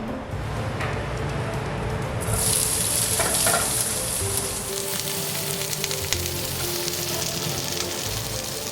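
Salmon skin frying in a hot pan, a steady dense sizzle that turns brighter and louder partway through and keeps crackling close by with no one talking.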